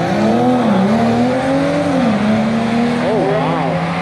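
A Toyota Supra's engine strains through a burnout attempt at a drag strip roll-racing event, a loud, steady engine tone bending up and down in pitch with a brief rising squeal near the end, voices mixed in.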